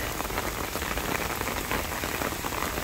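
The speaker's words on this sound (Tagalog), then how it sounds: "Wow, ang lakas ng ulan." Heavy rain pours down steadily outdoors, a dense, loud hiss of drops pattering on surfaces with no break.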